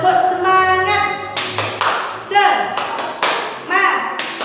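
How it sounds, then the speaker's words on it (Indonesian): A teacher leads a third-grade civics class in a rhythmic spirit-boosting clap: a few sharp, close claps land between a voice chanting and speaking. "mari kita tepuk semangat dulu ya."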